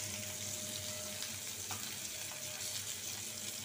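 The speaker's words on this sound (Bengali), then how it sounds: "ভাজা না নিলে পেঁয়াজটা ভর্তাটা নষ্ট হয়ে যাবে, সেজন্য পেঁয়াজটা একটু ভাজা নিতেছি।" Sliced onions frying in a pan of oil for a hilsa fish mash, a soft steady sizzle with faint crackles and no voices.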